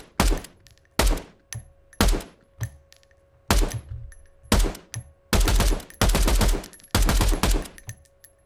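A series of sharp, punchy designed gunshot sound effects fired one at a time with short pauses, the later ones longer and heavier, ringing out loud and close.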